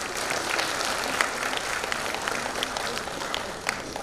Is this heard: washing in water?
no